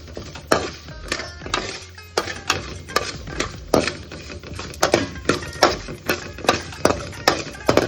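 Grated coconut and a pinch of asafoetida being stirred in a hot pan for peanut sundal, with steady, regular scraping strokes of the spoon over a soft sizzle and no talking.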